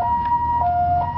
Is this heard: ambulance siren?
yes